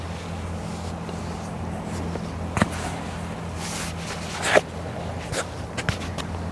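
A survey boat working on the Westerschelde in the Netherlands gives a steady low engine hum with a faint tonal drone, heard from the shore under wind noise, with a few soft knocks and clicks nearby.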